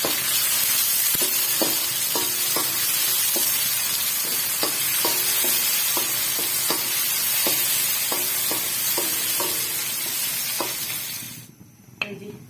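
Tomatoes frying in a pan for sarson ka saag: a loud, continuous close sizzle with regular clinks and scrapes of a spoon stirring against the pan, fading out abruptly near the end.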